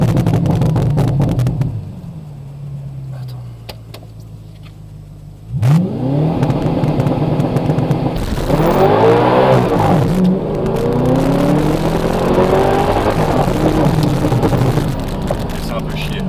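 Audi R8 V8 sports car exhaust revving loudly and close, with a sharp rise in engine pitch, a calmer lower stretch, then repeated hard acceleration sweeps; people talk over the engine noise.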